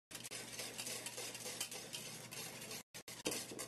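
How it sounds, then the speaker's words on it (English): Instant polenta is whisked in a pot, a continuous quiet scraping and clinking of the whisk against the metal, broken by a couple of short pauses near the end. "we're going to add 5 ounces of the instant polenta and just keep whisking it as it comes along"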